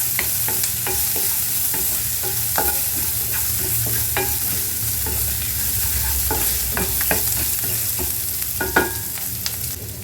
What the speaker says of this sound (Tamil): இப்போது வெங்காயம் நல்லா வதங்கிடுச்சு